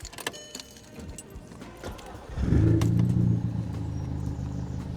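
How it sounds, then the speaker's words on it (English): An Audi A3 8P starts up after a quiet stretch of faint clicks and cabin clatter. The engine catches with a sudden loud rise about halfway through and settles into a steady, close idle. "and we turn the car on."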